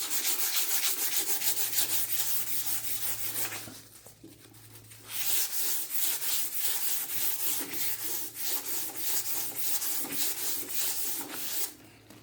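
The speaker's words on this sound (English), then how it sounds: "I'm just going to go down here and I'm just going to sand like we say we had a scratch" Fine sandpaper rubbed by hand over a urethane-finished wooden floor to smooth out a scratch, giving steady rhythmic scraping strokes at close range with a short pause midway.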